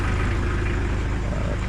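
A motorcycle engine idling steadily while warming up before a rescue ride, a close, constant low rumble filling the short stretch without any talk.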